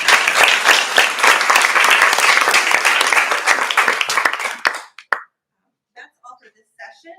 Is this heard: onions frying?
no